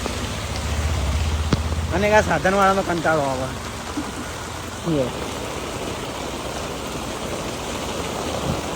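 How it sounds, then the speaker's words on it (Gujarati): Heavy monsoon rain in Patan pours onto a road in a steady, dense roar. Someone speaks briefly over it partway through. "વરસાદ ચાલુ છે ને તરત રોડ પર પાણી હેડવાનું ચાલુ થઈ ગયું"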